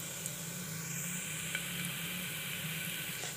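Fennel seeds and whole spices sizzle steadily in hot oil while being fried for bitter gourd biryani, a continuous close hiss with a few small pops and no talking.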